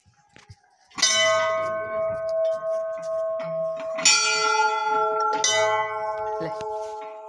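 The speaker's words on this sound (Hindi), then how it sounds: "हमने बहुत बड़ा घंटा बजाया" A large bell in a village temple is struck three times, each loud, close blow ringing out with a long sustained metallic tone that overlaps the next strike.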